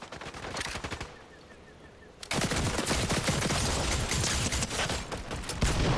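Rapid automatic gunfire in the Fortnite video game, loud dense bursts after a brief lull, continuing as sustained fire close up, with no talking over it.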